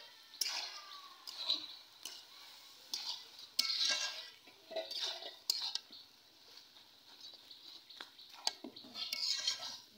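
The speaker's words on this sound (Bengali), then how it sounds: "এখন দেখে নেবো ঢাকনা উঠিয়ে" A lid comes off a cooking pot of bottle gourd leaf curry with a few close, light metallic clinks and rattles, scattered across quiet kitchen ambience.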